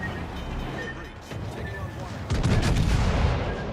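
Naval gunfire in the video game World of Warships: Legends: a few booming shots and crackling bursts, with a louder volley near the end, under steady background noise and commentary.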